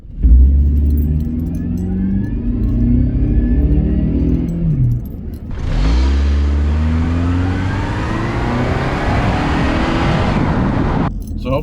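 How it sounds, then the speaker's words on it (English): Honda CR-V from 2002 to 2006 with a failing torque converter, driving along with a steady engine drone and a rising, wavering whine, briefly dropping before the whine climbs again, loud and close from inside the car. "I believe it's probably the stator inside of the torque converter that is causing that whining."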